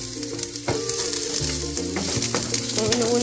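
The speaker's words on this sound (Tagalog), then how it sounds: "Nagigisa na ako, be. Inuna ko yung sibuyas." Onions sautéing in a pan, a steady frying sizzle with scattered clinks and scrapes of a utensil against the cookware, close and fairly loud throughout, no voices.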